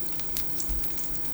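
A thawed plant-based burger patty sizzles in a pan, a soft continuous crackle and spatter heard up close and alone.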